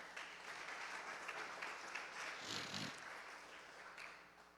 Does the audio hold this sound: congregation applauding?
yes